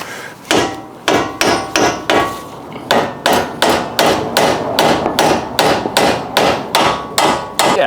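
Repeated heavy hammer strikes during a Honda Civic EG hatch transmission swap, freeing the axles, ring out in a steady rhythm, about two per second, loud and close, with metallic clangs and no talking.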